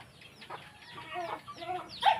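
Chickens cluck softly in a few short, scattered calls at a distance, faint against a quiet outdoor background with no talk.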